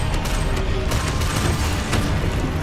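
An Exposo explosion spell goes off in the video game Hogwarts Legacy, a loud, dense rumble of blasts and crackling booms that carries on without a break.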